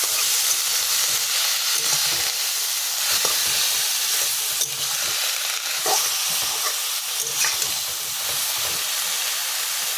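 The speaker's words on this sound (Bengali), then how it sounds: "শাকগুলো দিয়ে একটু নেড়ে চেড়ে নেবো।" Mustard-laced greens frying in a pan while being stirred, a loud continuous hiss and sizzle with scattered scraping strokes, close and steady with no talk.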